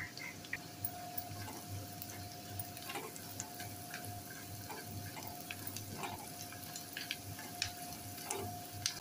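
Chopped onion with salt fries in a pan for jowar flour ukadpendi, a steady, close sizzle with frequent small crackles and pops and a faint, constant hum beneath, with no voices.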